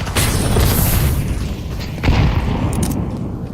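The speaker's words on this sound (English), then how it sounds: "Flashbang." A flashbang grenade detonates in a video game, a loud close boom with a short rumbling tail, followed by a second blast about two seconds later.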